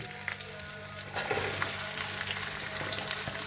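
A quiet pan suddenly erupts into loud sizzling as onions hit hot oil with tempered spices, then keeps crackling steadily.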